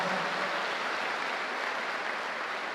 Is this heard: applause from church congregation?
yes